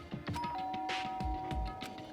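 A bright electronic two-tone doorbell chime in a video game, Danganronpa: Trigger Happy Havoc, rings once and holds, with soft game-like tones and low thumps around it.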